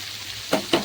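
Okra and chillies hit a pan of lightly fried potatoes with a soft sizzle and two quick scraping stirs.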